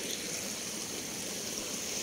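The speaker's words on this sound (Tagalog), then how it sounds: "Ang maagos siya, malakas yung current ng tubig dito, oh." Cold stream water flows in a strong current near a private beach resort. It makes a continuous, even rushing and trickling wash throughout, with no voices.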